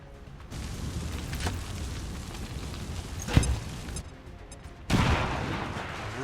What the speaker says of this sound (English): hopefully shoot a grenade over there to start damage on the guy